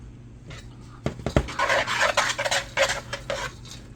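A spoon stirs and scrapes around a dish, mixing cheese into a Big Mac tater tot casserole, with a few sharp clinks followed by steady, close-up scraping and clatter.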